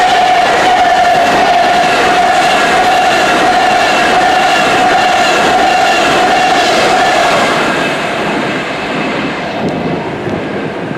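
A train moves through Crewe station, a loud, steady rumble with a sustained whistle-like tone and wheel noise that holds for about seven seconds, then eases slightly as it continues.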